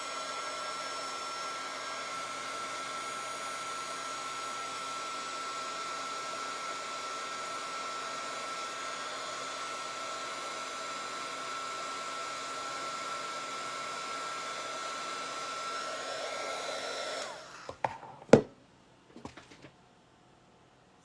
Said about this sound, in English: If you just take your little heat tool,